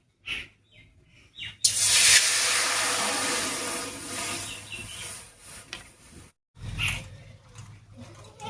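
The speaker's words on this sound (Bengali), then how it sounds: "এবারে কড়াইয়ে জল দেব" A loud burst of hissing and sizzling as water hits a hot wok on a stove, settling into a steady steaming hiss, then a brief quiet and another sizzle.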